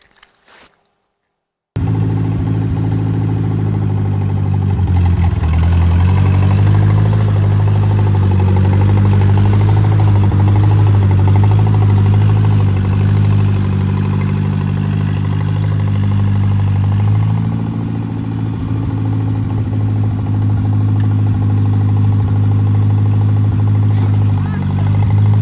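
A 1960s John Deere 1010 W tractor that had sat for 18 years catches and runs after a brief quiet start, settling into a loud, steady idle with a strong low throb that dips briefly and then holds.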